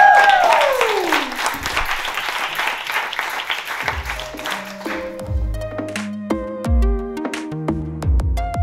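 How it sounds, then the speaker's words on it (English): A live studio audience at a session claps loudly, the applause fading after a few seconds as plucked musical notes take over. "Can we have a round of applause?"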